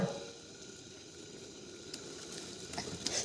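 Water poured into a hot pan of spices for an egg dish gives a steady, close sizzling hiss that holds evenly and flares slightly near the end.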